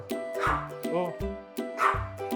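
A dog barks close by in two bursts of sharp, yappy barks with whimpering between them, while a person speaks briefly during a Thai dog walk.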